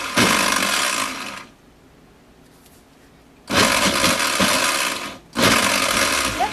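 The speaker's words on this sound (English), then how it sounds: "I'll put my blender on pulse. And I'm just going to give this a few quick pulses just to try to get it going." A kitchen blender pulses apple sauce in short bursts, loud whirring runs of about a second and a half with quiet gaps between, close up and without speech.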